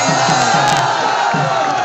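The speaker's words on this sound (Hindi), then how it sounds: "एक बार जोरदार ताली सादिक सर के लिए" A hall crowd at a results celebration for JEE Mains 2022 at a Kota coaching campus roars and cheers loudly and continuously, a dense wash of voices filling the whole moment.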